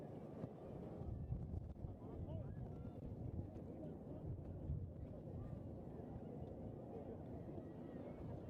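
Strong wind roars steadily across an outdoor rugby field at a secondary schools tournament, buffeting the microphone in a continuous low rumble while a commentator talks over it.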